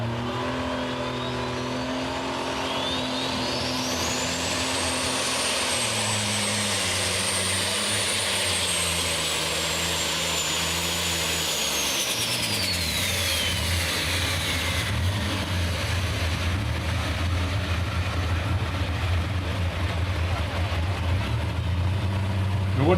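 A light super class pulling tractor in the 9,500-pound class makes a sustained, loud engine roar as it runs at high revs. A high whine rises and then falls away partway through, and the engine note drops toward the end.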